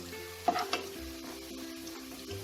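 Sliced onions deep-frying in hot oil until reddish-brown, with a steady low sizzle and a couple of sharp clinks and stirring scrapes as they are lifted out.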